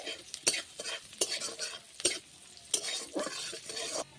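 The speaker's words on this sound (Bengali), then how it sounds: "আদা আর রসুনটা দিয়ে দিয়েছি, কোচানো একটু ভেজে নেব।" Chopped garlic and ginger frying in hot oil in a pan, close and crisp sizzling broken by sharp spatula scrapes and stirring clatters, no voices.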